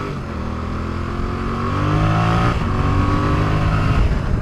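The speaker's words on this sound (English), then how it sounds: "I think that's a car coming in, but it's far enough away." A car approaches on a Cotswolds country road, its distant engine drone swelling steadily and growing louder over a few seconds, heard alone with no talk.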